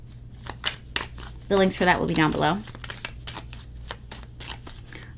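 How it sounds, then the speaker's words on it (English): Oracle and tarot card decks being shuffled in a run of quick, crisp riffling bursts close by, with someone talking over the middle stretch and the card noise continuing alone afterward. "one oracle deck and another tarot deck that I'm going to be shuffling and pulling from"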